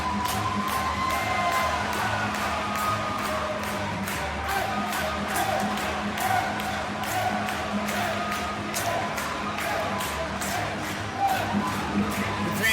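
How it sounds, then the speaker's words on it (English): A wrestling crowd at a CCW Game On event in Nashville claps in steady unison, sharp rhythmic claps repeating evenly for several seconds over a continuous murmur of the audience. "Clapping in unison."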